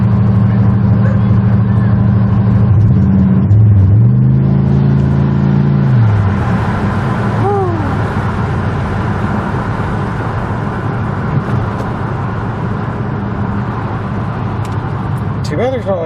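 A 2006 Chevrolet Impala SS with an LS4 V8, factory cam, twin resonators and mufflers, rumbles loudly with a steady deep exhaust drone and a rev swell early on, while people talk over it throughout.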